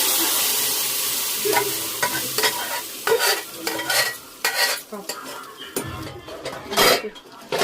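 Close frying sizzle of a dal tempering in a pan broken up by repeated scraping and clinking of a spoon stirring against metal, irregular strokes, no speech.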